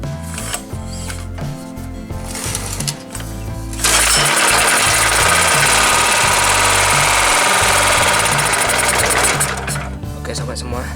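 A Daito 2.4 kVA portable generator under service, with a freshly cleaned carburetor, rattles and clatters as it is cranked, then catches and runs loud and steady, a harsh, continuous mechanical drone.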